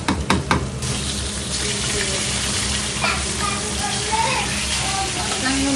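Dried churi shutki fish frying in a pan hiss with a steady, loud sizzle, led by a few sharp clatters as the pieces go in, then a continuous spatter close by.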